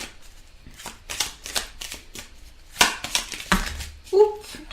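Tarot cards shuffled for a reading, a series of close papery riffles and bursts with sharper clattering snaps near the end.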